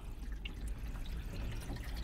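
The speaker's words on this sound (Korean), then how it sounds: "물소리 들리죠?" Water sprays in a steady hiss over a Cadillac CTS-V trunk during a leak test, with faint drips and splashes mixed in.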